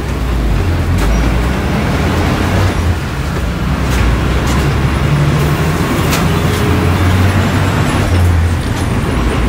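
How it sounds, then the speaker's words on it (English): A city bus pulls up on a loud, busy Bangkok street, its engine rumbling close by over constant traffic noise, with a brief hiss of air brakes. "All right, so here comes our bus."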